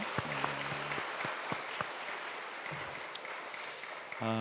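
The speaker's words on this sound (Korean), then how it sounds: "우리 아이들 다시 한번 너무 고맙다고 우리 박수로 한번 격려해 볼까요?" A church congregation claps to encourage children before a sermon; continuous applause with scattered sharp claps, overlaid by tonal sounds early on and a brief voice or tone entering at the very end.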